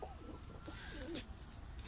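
Soft, rolling coos from pigeons repeat in a low, throaty rhythm, fairly close, over a steady background hiss with a brief sharper noise midway.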